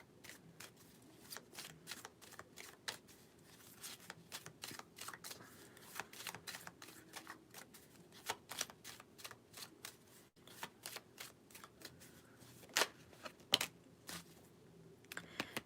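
Tarot cards being shuffled close up, a rapid series of crisp riffling flicks and slaps repeating irregularly throughout, fairly quiet and alone.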